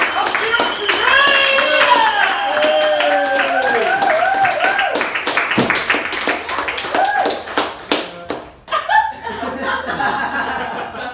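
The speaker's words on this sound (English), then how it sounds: "Can we please put our palms together one more time, just once, but then actually do a round of applause" Comedy club audience at a stand-up night clapping and laughing, with a dense burst of applause and chuckles heard up close while a voice talks over it.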